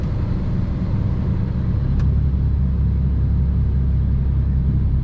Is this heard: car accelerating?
yes